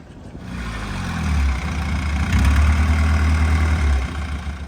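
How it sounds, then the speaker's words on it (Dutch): River ferry boat engine idling as the vessel arrives, a steady low rumbling drone that swells slightly and holds, close and alone with no voices. "En daar komt onze boot."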